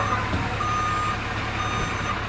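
A reversing truck sounds steady, evenly spaced backup beeps in a small rural town, heard from a moderate distance over a constant low engine rumble with no talking.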